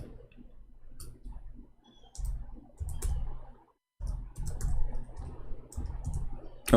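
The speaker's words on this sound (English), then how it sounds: "We are typing in English, sorry." Computer keyboard typing during a live stream comes as scattered bursts of soft clicking keystrokes, close and moderately quiet, with a brief pause midway and no speech.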